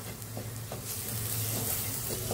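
Whole spices and masala stir-fry in hot oil for an oyster curry, giving a close, steady sizzle with soft scraping strokes of the spoon running through it.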